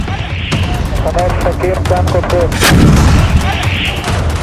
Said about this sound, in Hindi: इजराइल का तोप से हमला